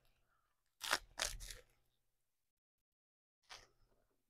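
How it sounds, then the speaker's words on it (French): Crunchy fresh salad with onions being eaten alongside bread, close and quiet: a burst of three quick crisp bites or chews, a pause, then one more short crunch. "c'est frais, c'est croustillant avec les oignons"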